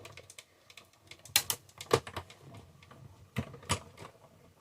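A handle is wound on a die-cutting machine, pushing cardstock and a clear cutting plate through its pressure rollers, giving soft, close clicks and knocks in irregular bursts.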